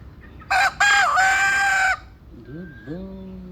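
A rooster crows loudly and close by on a home terrace in the early morning, a long drawn-out call followed by a few softer clucking or warbling bird notes.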